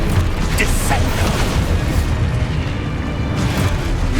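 A Descendo spell slam from the Hogwarts Legacy video game, a heavy booming impact rumbling loudly through the whole clip amid dense game noise, with an energetic voice shouting spell names over it.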